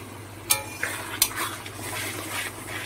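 A spoon scrapes and clinks against a pan as ground spice paste is stirred into crab masala, a few sharp metallic knocks over a low steady background hum, close and without speech.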